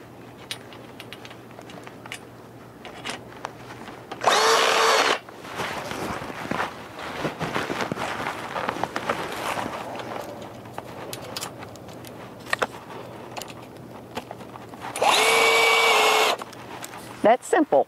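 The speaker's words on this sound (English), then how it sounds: "now, got to put these screws in here" A power drill drives screws into the frame of a portable modular low tunnel, with two loud, steady whirring bursts of about a second each, separated by shuffling, handling noises and someone talking nearby.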